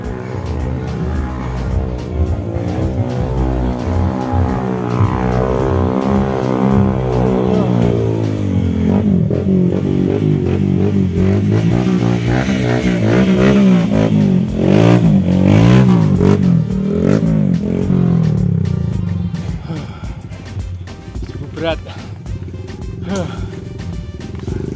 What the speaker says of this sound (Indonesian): Sedikit berisik tadi, ada motor membawa pupuk kandang